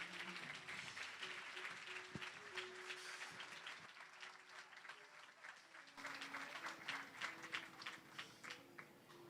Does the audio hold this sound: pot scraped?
no